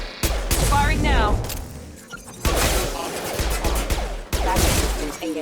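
Mass Effect 2 gunfire comes in rapid bursts of close, loud automatic shots with crashing impacts, separated by brief pauses, while voices speak and shout during combat.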